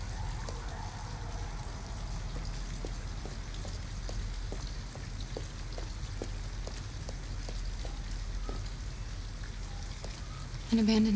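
Steady rain falls outside an abandoned house in Detroit: Become Human on PS5, a constant broadband hiss with scattered drop ticks throughout, close and even, with a faint voice underneath.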